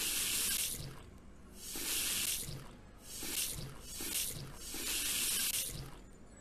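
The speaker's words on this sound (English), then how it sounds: "Let's add some more water for effect." Water running from a tap into a cooking pot in the Cooking Simulator VR game on Quest 2, a steady hissing splash that swells and fades in several bursts, with no talk.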